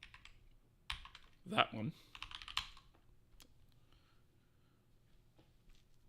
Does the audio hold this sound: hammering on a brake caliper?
no